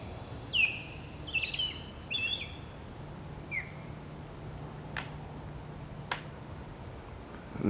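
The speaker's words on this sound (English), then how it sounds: "They've got a really cool kind of whistle call" A wild bird at Boyd Hill Nature Preserve gives several short, clear whistled calls and chirps spread across a few seconds, moderately distant over quiet outdoor background with no talking.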